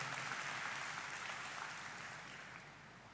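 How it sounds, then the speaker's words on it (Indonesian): A church congregation gives a round of applause during a sermon, a soft, distant wash of clapping that gradually fades over a few seconds, with no voices. "Yang setuju berikan tepuk tangan yang meriah betul."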